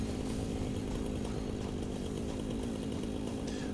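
A chainsaw cuts down trees in the video game Satisfactory, a steady, loud, raspy engine drone that runs without a break and with no talking.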